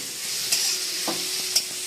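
Green chillies sizzle and fry in a pan while a spoon stirs them, a steady close hiss of hot oil broken by a few sharp scraping strokes; no talking.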